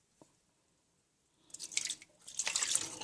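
Water poured off soaking red beans in a bowl, a faint trickle and splash that comes in two short bursts after a quiet start, close up with no talk.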